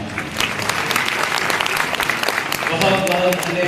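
Sustained, dense applause from a large audience at a birthday celebration for a Brahma Kumaris leader, steady clapping with a few voices rising near the end.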